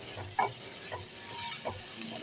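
Capsicum gravy masala sautéing in oil in a pan, a quiet, steady sizzle with a few soft stirring scrapes, no talking.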